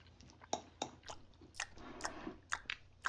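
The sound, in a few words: loud lip smacking while chewing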